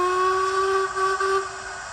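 Steam whistle number 3 from a Black 5 model locomotive sound decoder, one sustained tonal blast lasting under two seconds, clear and fairly loud, with no voices.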